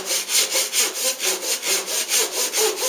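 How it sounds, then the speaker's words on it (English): A thin, flexible Japanese hand saw cuts through a wooden board in steady, rhythmic back-and-forth strokes, about three strokes per second, close and clear with no talk. "These Japanese saws are really flimsy, so they do have a tendency to waver quite a bit on a cut like this"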